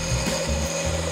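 A skewchigouge cuts a bead on a spinning piece of wood on a lathe, giving a steady close scraping and rasping that lasts through the moment, with no voices.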